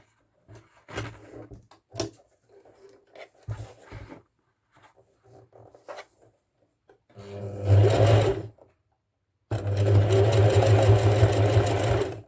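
A sewing machine stitches a rope basket in two sustained runs of dense, rapid mechanical whirring, preceded by scattered handling knocks, clicks and short stops, close and fairly loud.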